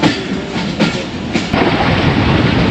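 A passenger train rushes past at close range while crossing the 46 Down Pakistan Express at Deona Juliani station on a foggy morning, heard as a loud, continuous rail roar with clattering wheels and dense broadband rumble throughout.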